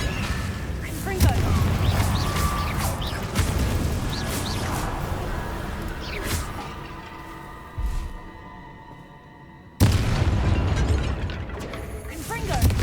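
Confringo blasting spells going off in the video game Hogwarts Legacy, a run of booming explosions and crashes over a busy mix of game effects and music, with a brief drop to quiet near the end before the noise resumes.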